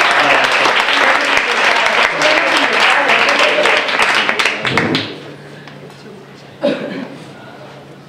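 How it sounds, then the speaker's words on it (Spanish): Audience applause for a group at a workshop, dense clapping for about five seconds before fading to quieter room sound, with a brief burst near the end. "el grupo 6 se merece un fuerte aplauso"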